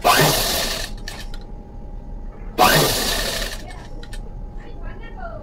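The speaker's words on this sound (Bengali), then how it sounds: "এই তো আমি এইভাবে ধরে কিন্তু সেলাইটা দেবো" A sewing machine stitching fabric piping in two loud close bursts of rapid whirring, each lasting about a second, separated by quieter handling noise in a room.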